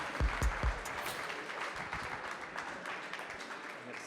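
Audience applause at a business awards ceremony, a fairly quiet, continuous patter of clapping in a large room, with a few heavy thumps at the start and some talk under it.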